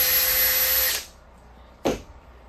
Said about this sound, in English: drill a couple of holes here to mount the birdhouse to a pole